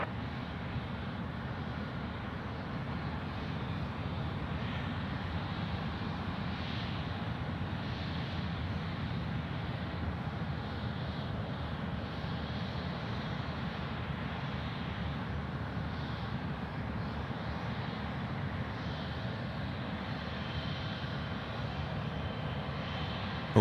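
An airliner taxis toward runway 16 right for a night departure at Sydney Airport. Its engines give a steady, muffled drone heard from inside the cabin, unbroken and even throughout.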